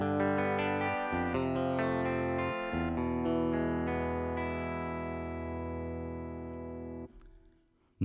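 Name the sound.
Fender Stratocaster guitar sample on Korg Pa5x keyboard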